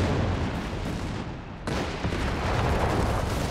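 Heavy machine gun fire rattles through a Company of Heroes 3 battle, a dense continuous roar of gunfire and distant explosions with a sharp crack midway and no talking.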